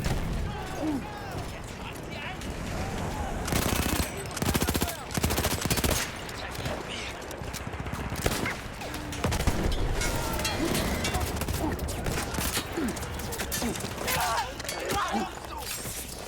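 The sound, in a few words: gunfire from a war video game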